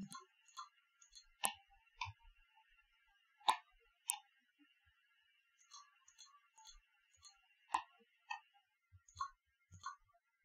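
Sparse, sharp computer mouse clicks at close range in a quiet room, single and paired taps spread unevenly, with faint softer ticks between them.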